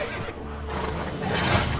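A horse in The Witcher 3: Wild Hunt neighs loudly across the clip, with a rising whinny near the end over steady game background noise.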